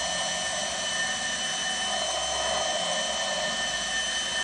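A power grinder works steadily on the top edge of a Chevy small-block 327 intake manifold from a 1934 Chevy truck build, giving a loud, continuous high whine close by with no pauses or talk.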